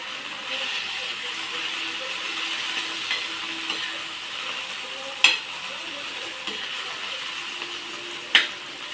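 Masala sautéing in oil for egg biryani, a steady high hiss of frying as a spoon stirs it, with two sharp metallic clicks standing out against the pan.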